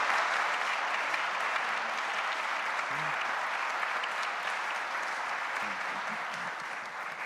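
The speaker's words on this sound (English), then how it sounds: "give a round of applause for our panelists for coming and presenting" Sustained crowd applause for panelists at the App.js Conf 2022 developer conference, even and continuous clapping with faint voices underneath, easing slightly near the end.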